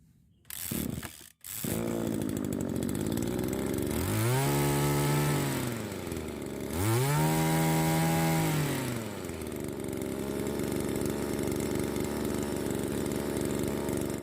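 After a few pull attempts, a small two-stroke engine, a 767 or TU36 type, catches and runs with a buzzing whine, revving up twice before settling into a steady, loud idle.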